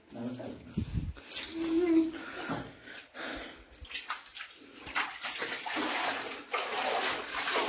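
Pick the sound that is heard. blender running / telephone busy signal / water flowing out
water flowing out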